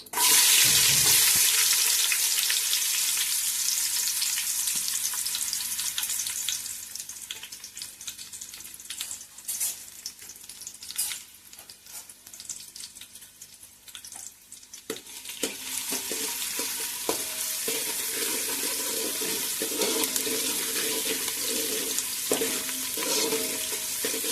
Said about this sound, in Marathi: तेल आपला गरम झालेला तमालपत्र घालून घेऊया. त्याच्यानंतर कांदो